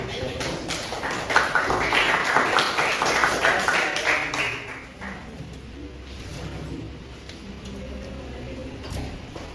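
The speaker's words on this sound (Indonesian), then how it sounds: "terima kasih tepuk tangan anak-anak" Children applaud in a classroom, a dense patter of small hands at close range that is loud for about four seconds, then fades to scattered claps under a background murmur.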